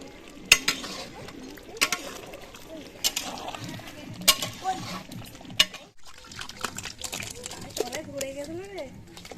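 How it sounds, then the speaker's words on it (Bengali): Biryani masala being sautéed in a pot over a wood fire gives a low sizzle with scattered sharp scraping and clanking strokes of the spoon, while people talk quietly nearby. "এবার এটা বিরিয়ানির মশলাটা কষিয়ে নেওয়া হচ্ছে"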